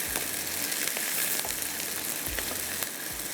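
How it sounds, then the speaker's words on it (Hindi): Onions sizzle and fry steadily in a hot pan, a dense continuous crackle with occasional soft clicks of stirring, heard close with no talking. "प्याज को हल्का सा फ्राई करके निकालेंगे"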